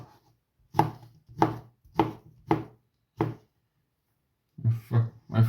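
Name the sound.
knife chopping food on a cutting board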